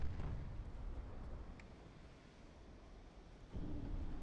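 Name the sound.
torpedo hitting battleship Repulse in video game Ultimate Admiral Dreadnoughts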